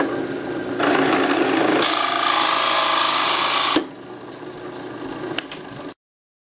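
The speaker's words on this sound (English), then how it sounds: "So I'll drill out some rings." A power drill whines steadily into oak for a few seconds, shifts pitch partway, then winds down to a quieter hum before cutting off.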